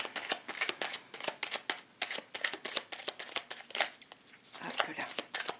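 Tarot cards being cut and shuffled during a Gemini reading: a steady run of close, crisp riffling flicks and card slaps in an irregular rhythm, fairly quiet, with no speech.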